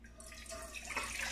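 Water pours into a saucepan on the stove for boiling, a soft running splash that builds slightly in brightness over the short stretch.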